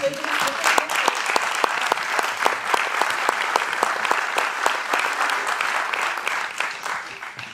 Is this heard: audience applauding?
yes